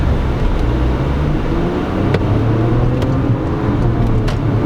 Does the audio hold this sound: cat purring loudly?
no